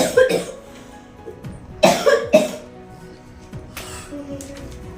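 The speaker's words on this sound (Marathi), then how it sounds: "मलाही लागलाय खोकला" Several human coughs in a short burst from a sore throat, then a pause and a couple more harsh coughs, fairly close and loud against a quiet background.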